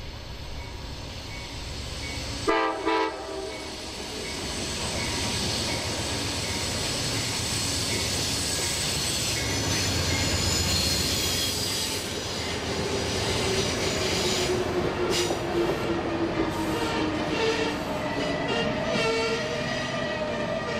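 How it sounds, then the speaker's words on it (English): A northbound CSX Kentucky Cardinal passenger train rumbles loudly through a station stop, a sharp burst near the start, then sustained wheel and engine roar with squealing wheels and horn tones later. "we see the northbound Kentucky Cardinal making its station stop"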